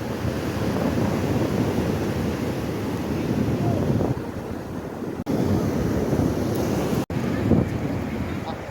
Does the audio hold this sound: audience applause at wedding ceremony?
no